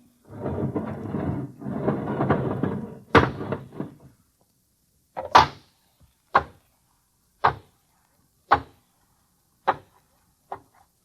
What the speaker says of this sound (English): All right, open the inner door.